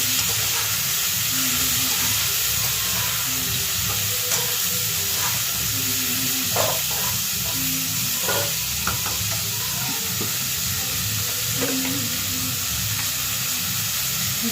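Vegetables and lentil dumplings fry in hot oil tempered with black cumin, giving a continuous loud sizzle with occasional clinks and scrapes of a stirring spoon throughout.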